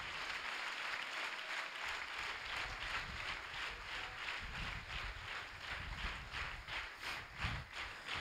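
A church congregation at a Sunday service claps together in a steady, fairly faint wash of applause that continues evenly throughout with no talk over it.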